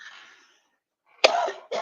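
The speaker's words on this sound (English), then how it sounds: "All right, cover your ears. I got a cough." A sharp, loud cough bursts out, followed by a second shorter cough, after a faint breathy sound and a moment of silence.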